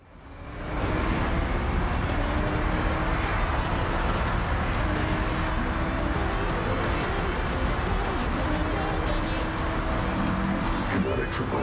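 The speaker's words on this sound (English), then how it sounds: "Plus the bullet train." A bullet train in the racing game Forza Horizon 6 rushing past, a loud, steady roar that swells up in the first second and holds at full strength, with a voice faintly underneath.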